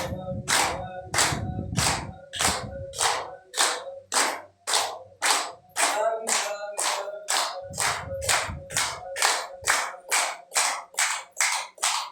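Rhythmic, evenly spaced hand claps ring out during a devotional sermon on the Dnyaneshwari, roughly two per second and loud and close, with a voice speaking over the first few claps and again briefly midway.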